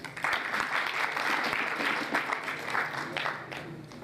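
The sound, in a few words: applause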